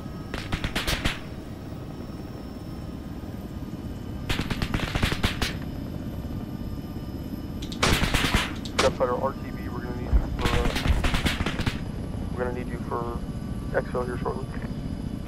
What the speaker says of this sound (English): Down the road to your west, you've got some kind of heavy machine gun, over.